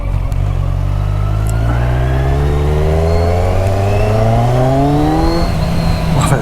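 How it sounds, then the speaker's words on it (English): Loud engine intake roar from a 2015 Z1000 Sugomi motorcycle accelerating, its pitch sweeping steadily upward through a long rev, heard close and continuous. "Oh, that induction noise is just awesome."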